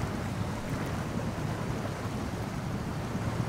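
A truck in the video game SnowRunner plows through deep water during a crossing, giving a steady, dense rush of churning water and engine rumble that fills the whole stretch without pause.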